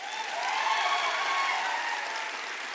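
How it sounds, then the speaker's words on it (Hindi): An audience at a business seminar in India applauds in a short, steady, even burst of clapping with no talk. "आर्मी वाले सर के लिए जोरदार तालियां।"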